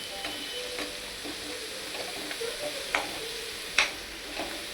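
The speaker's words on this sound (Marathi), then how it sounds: "हा मसाला मस्त भाजून घेऊया आपण तेलामध्ये आणि नंतर आपले घरचे मसाले टाकूया त्याच्यामध्ये" Masala roasts in oil with curry leaves for patt vadi, a moderate, steady sizzle with soft stirring scrapes and a few light ladle taps against the pan.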